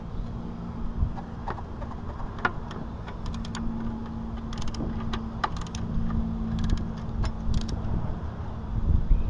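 A wrench loosens the 12mm belt tensioner bolt on a 2009 Toyota Corolla during an alternator replacement, making scattered small metallic clicks and ratcheting ticks over a low, steady hum.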